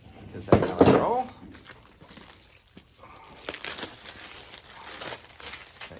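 A machete slices open product packaging, giving a sharp crinkling, tearing burst near the start followed by quieter rustling, scraping and handling noises up close.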